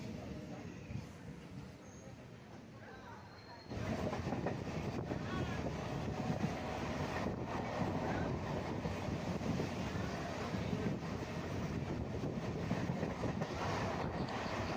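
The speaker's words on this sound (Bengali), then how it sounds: "ট্রেনটার নির্দিষ্ট সময়ের চেয়ে 12 মিনিট লেটে যথারীতি স্টেশনের প্ল্যাটফর্মে এসে পৌঁছেও গেছে।" A passenger train pulls into a station platform, its loud, steady rumble and clatter starting abruptly a few seconds in and continuing without a break over quieter background noise.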